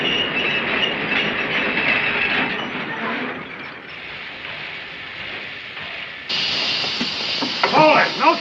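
A freight train rolls past with a continuous rumbling, clattering roar, close and loud, its wheels clacking and squealing as the sound shifts toward the end.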